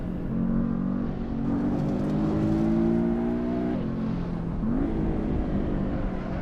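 A Porsche Carrera in a racing video game, its engine note climbing steadily through the revs before dropping at a gear change and pulling up again, steady and loud with no talking.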